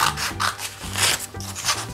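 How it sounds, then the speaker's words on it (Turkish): Scissors cut through a sheet of folded paper during a preschool craft lesson, making rough rasping snips in a steady repeated rhythm, close up and without speech. "Katladığım yerden kesiyorum şimdi çocuklar."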